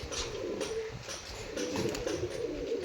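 Pigeons cooing softly in a low, steady murmur, with a constant outdoor background hum throughout.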